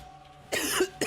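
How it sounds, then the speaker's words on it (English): A person coughs twice in quick succession, close and fairly loud, after a brief quiet moment. "Sorry for coughing in your ears."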